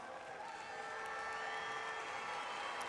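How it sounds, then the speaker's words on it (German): Handball crowd in an arena giving a sustained round of applause, a steady dense wash of clapping with faint cheering, moderately distant and even throughout. "Es gibt nochmal einen extra Applaus."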